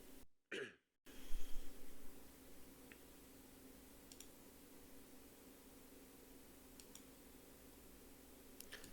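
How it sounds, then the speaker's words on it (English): A single short cough near the start, followed by quiet room noise with a few faint clicks. "Had a cough and Kleenex break there."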